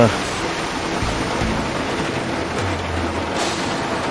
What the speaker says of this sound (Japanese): こんな雨の中バトルだなんて。